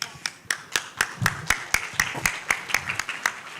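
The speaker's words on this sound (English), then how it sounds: "Now let's give a loud applause for our next contestant." An audience at a school English exhibition day claps for the next storytelling contestant, a faint, even rhythm of claps beating about four times per second.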